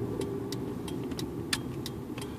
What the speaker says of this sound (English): Look, it's the mail truck.